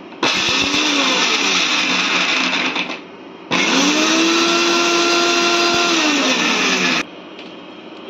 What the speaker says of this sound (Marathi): आता आपण टोमॅटोची सुद्धा पेस्ट करून घ्यायची.